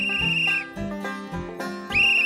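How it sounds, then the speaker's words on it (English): A shrill safety whistle is blown in two loud, sustained blasts with a pause between them. "I blew on the whistle and then stopped to listen."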